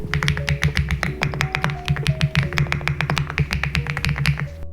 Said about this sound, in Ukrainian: Свічі видають ось такий класний звук.